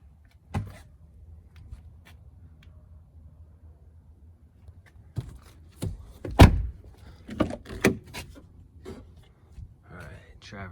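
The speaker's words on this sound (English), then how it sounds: "Driver's side door," An Audi Allroad 2.7 biturbo's driver-side door opens and shuts with a few latch clicks and soft thumps, then one loud slam and more rattling clunks, close by in a quiet space, with a faint voice near the end.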